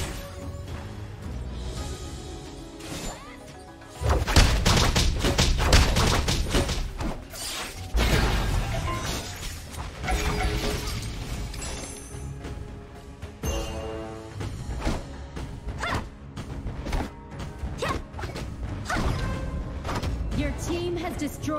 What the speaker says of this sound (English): Team has destroyed a turret.